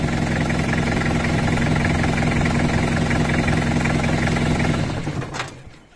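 A Toyota Hilux 2.8 litre diesel engine runs loud and close with a steady, rough clatter, then cuts out abruptly near the end.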